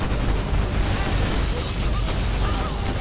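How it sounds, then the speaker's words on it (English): Particle cannon strikes in the video game Command and Conquer Generals, a dense continuous roar of explosions and rumbling blasts, loud and unbroken throughout the three seconds. "Warning, particle cannon activated."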